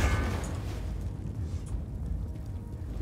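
A deep rumbling boom in Wolfenstein II: The New Colossus with a sharp crackling onset, fading into a long low roar of debris and fire, loud and close.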